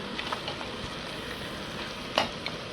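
Onions and mutton sautéing in a pan for curry, a soft continuous sizzle broken by occasional spatula scrapes and one sharper clack near the end, with no voices.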